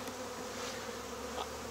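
Honey bees from a single-box colony that survived winter buzz steadily throughout an open hive inspection, a continuous close drone with no talk.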